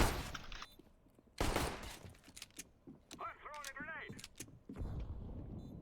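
Gunfire in a first-person shooter match: sharp shots and a loud burst, with mechanical clicks and creaks between them and a voice faintly underneath.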